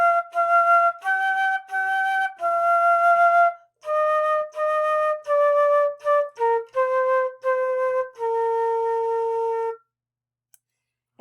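A flute plays lesson line 56A, a run of clear sustained notes with short breaths between them, moving down in steps and ending on a longer held note, with a brief silence at the close.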